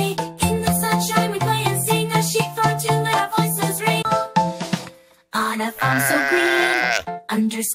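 Sheep bleat repeatedly in a children's farm song, the sung and bleating tones woven into a bright melody with a short break near the middle, loud and close throughout.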